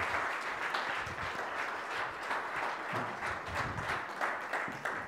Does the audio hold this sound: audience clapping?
yes